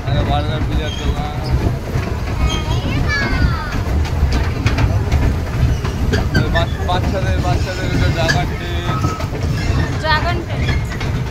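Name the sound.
dragon train amusement ride for children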